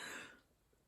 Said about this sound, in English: I'm about to start having a coughing fit.